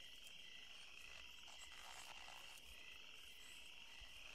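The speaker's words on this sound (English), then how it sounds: "just the relaxing sound of crickets" A steady, faint night chorus of crickets trills without pause, with a few croaks mixed in, from a quiet night scene in the 1996 film Scream.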